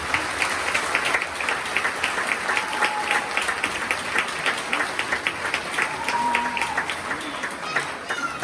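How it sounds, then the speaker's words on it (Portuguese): An audience applauds at a rock ballet performance in April 2023, sustained crowd clapping that stays dense and even for several seconds, with a voice faintly underneath. "Mais uma salva de palmas para elas."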